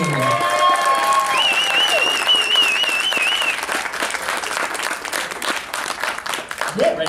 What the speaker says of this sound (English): Ladies and gentlemen, please give a wonderful round of applause to Ricou Browning!